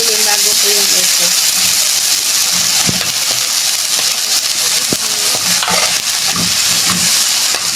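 Ground meat frying in a pan for giniling na upo, with a steady loud sizzle and intermittent scraping as it is stirred. Faint voice and music-like tones sit underneath.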